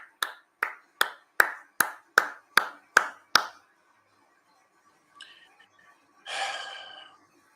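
Nine evenly spaced, crisp claps from a single pair of hands close by, followed by a pause, a couple of faint clinks and a brief breathy exhale during an NRL Sharks versus Cowboys watchalong.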